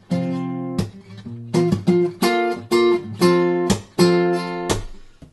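Acoustic guitar playing a passage from a song coming out of measure 127, a run of crisp strummed chords and picked notes with a syncopated, shifting rhythm, close and solo.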